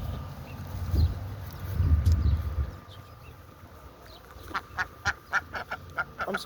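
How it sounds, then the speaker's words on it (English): Pekin ducks on an Irish farm: low rumbling honks in the first few seconds, then a run of short, sharp quacks repeating in a quick uneven rhythm, fairly close with no talk. "They're nice ducks."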